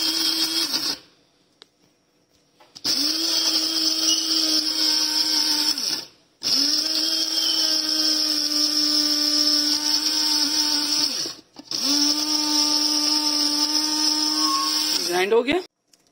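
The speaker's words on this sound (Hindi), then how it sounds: "अब इस मसाले को हम ग्राइंड कर रहे हैं।" Electric spice grinder whirring as it grinds masala for a mixed-vegetable pickle. Three loud, steady bursts of motor whine are separated by short pauses, and the final burst winds down at the end.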